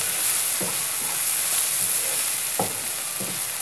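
Bitter gourd frying in a pan, a continuous close sizzle broken by several scraping strokes of a stirring spoon.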